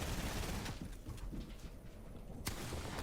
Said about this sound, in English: Opponent drops down, hits a nasty shot for a significant amount of damage.